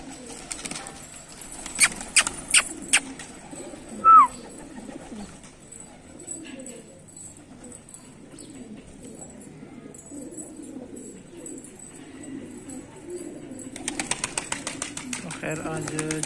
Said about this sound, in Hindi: ये जो ब्लैक टेल लगा कबूतर है